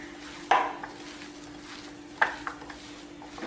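A spoon scrapes and knocks against a bowl while mashing spiced potato filling into a paste, two sharp clinks standing out among softer scattered taps, close by and fairly quiet.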